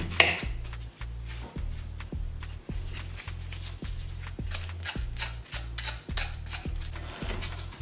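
Knife chopping fresh peeled ginger on a cutting board, a steady run of about a dozen evenly spaced, close, crisp thuds and cuts with no talking.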